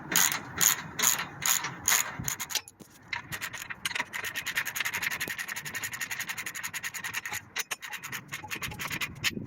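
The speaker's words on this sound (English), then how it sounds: "next we're going to just snug it up with a 3/4 inch socket" A ratchet with a 3/4 inch socket clicks rapidly while snugging a bolt during a CURT trailer hitch install on a Land Rover LR3, close and crisp with a brief pause before steady continuous ratcheting.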